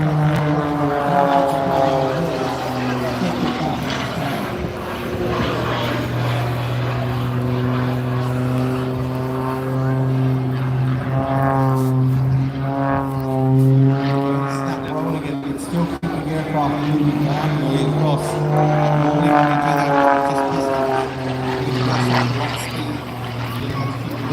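An aircraft flying a display at the Ayr air show drones steadily for the whole stretch, its engine tone rising and falling as it manoeuvres, with a voice talking over it.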